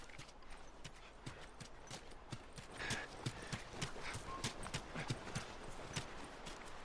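Horse hooves clip-clop steadily at a moderate distance in The Last of Us on PS4, a regular rhythmic trot with a faint whinny partway through, no talking.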